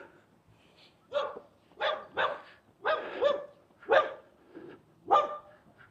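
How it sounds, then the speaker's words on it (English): A dog barks on a hot-day walk past an alternative therapist's place near Goondi Hill, giving about six separate barks at a steady moderate distance with short gaps between them. "And a dog. You can hear the dog."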